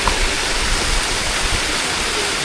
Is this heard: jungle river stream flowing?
yes